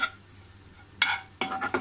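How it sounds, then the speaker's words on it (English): Neem flowers are stirred as they fry in a pan, giving a soft sizzle with a couple of sharp scraping stirs near the end, close and fairly clear. "Now we will mix it nicely and properly."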